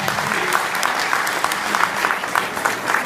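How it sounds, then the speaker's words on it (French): An audience in a village festival hall gives a burst of dense applause, many hands clapping at once, steady and fairly loud throughout with no speech over it. "Vous pouvez l'applaudir aussi."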